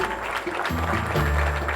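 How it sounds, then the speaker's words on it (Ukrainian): Hands clap during a children's counting lesson about pairs, with a few soft, close claps over steady background hum. "Так, плескаємо у долоньки."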